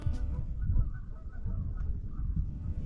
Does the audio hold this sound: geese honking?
yes